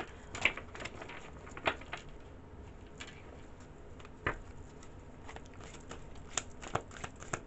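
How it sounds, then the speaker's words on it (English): A deck of playing cards is shuffled in a quiet room, with faint, quick riffling bursts that recur irregularly every second or so and no voices. "See, these are too hard to shuffle them all at once."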